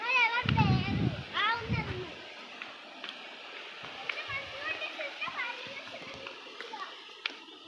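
Water splashes and rushes steadily while children's voices call out over it, loud at first and then settling into a busier background.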